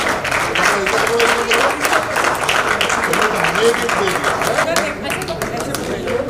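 A crowd applauds steadily during a Jharkhand government video conference honoring athletes, dense clapping filling the whole stretch with some murmuring voices mixed in.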